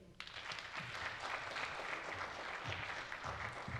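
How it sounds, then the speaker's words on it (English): An audience at a scholarship program event applauds a guest speaker, a sustained, moderately faint patter of many hands clapping in a hall, with low murmurs beneath. "a big round of applause for Mr."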